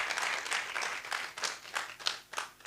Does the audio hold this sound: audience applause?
yes